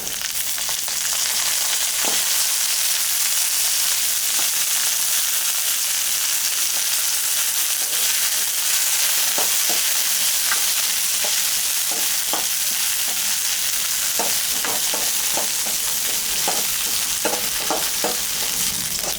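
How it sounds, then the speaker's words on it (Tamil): Chopped onion and garlic sautéing in hot oil for pirandai chutney, a loud, steady hiss of frying with occasional light stirring clicks toward the end, close up and without speech. "இப்போ வந்து வெங்காயமும் பூண்டும் ஆட் பண்ண போகிறோம்"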